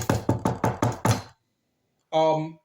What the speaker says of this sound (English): you close the door, and someone knocks.